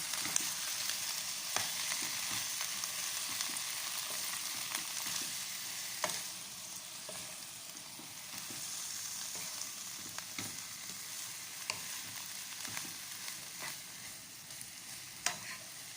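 Cabbage frying in a pan for a breakfast dish, a steady crackling sizzle with occasional stirring clicks and scrapes, close and continuous with no talk.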